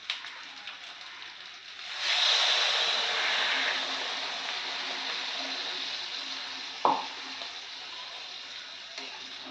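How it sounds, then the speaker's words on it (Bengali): Water poured into a pot of sizzling mutton curry, a sudden rush of hissing and bubbling that swells then settles into a steady simmering sizzle, with a brief clink partway through. "এবার আমি এর মধ্যে পরিমাণ মতো জল দিয়ে দেবো।"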